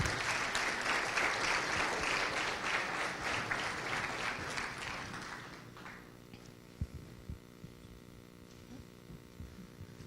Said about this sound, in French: je vais vous demander d'applaudir Nicolas Arpadian et puis Gilles Wackenheim